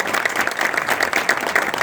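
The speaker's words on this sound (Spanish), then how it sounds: "Un aplauso, ¿no?" Audience applause at a criminology talk, steady dense clapping throughout the short stretch, fairly close and even in loudness, with no voices over it.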